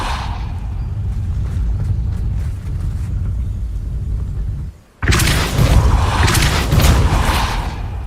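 A Depulso spell in Hogwarts Legacy bursts out as a sudden loud, broadband blast with a heavy low thump, cutting in after a brief dip in the background rumble and then sustaining a rushing roar.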